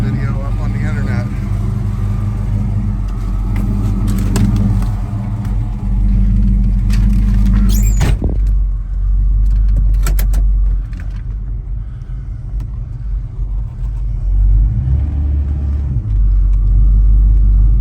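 A 1970 Monte Carlo SS 454 with its engine running on a drive, a loud steady low rumble from inside the car, with a few brief clunks and a rise in engine note near the end, voices talking over it.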